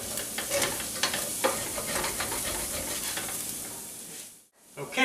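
A spatula stirs and scrapes browned bits off the bottom of a frying pan for a pot pie filling, repeated scraping strokes over a constant sizzle, briefly pausing near the end before resuming.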